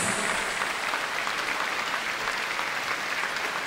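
A concert hall audience applauds an orchestra at a Christmas holiday concert, a thick, sustained wash of clapping from a large crowd, steady and loud from start to finish.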